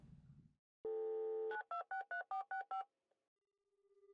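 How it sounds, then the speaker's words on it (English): A telephone is dialed in the visual novel SubaHibi: Wonderful Everyday: a steady dial tone, then a quick run of seven sharp keypad beeps, followed by a faint, thin tone after the line goes quiet. "I called the phone in their house."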